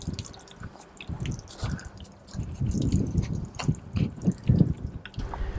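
Hot water tap flushing out, a splashy, gurgling rush of water with uneven bursts, close and fairly loud, running steadily without speech.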